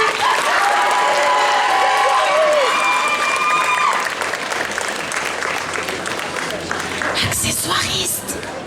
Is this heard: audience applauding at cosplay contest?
yes